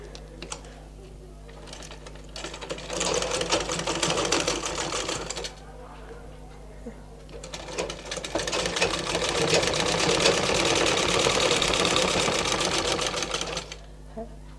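A sewing machine stitches the shoulder joint of a blouse in two long runs of rapid, even mechanical chatter, with a soft hum and someone talking quietly in the pauses.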